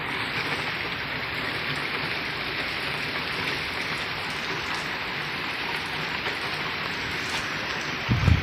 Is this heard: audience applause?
no